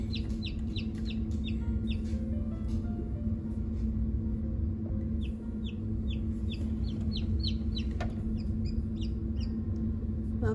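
Chickens in a summer brooder with a newly hatched chick, rapid high peeping in repeated bursts over a constant low hum, close and clear throughout.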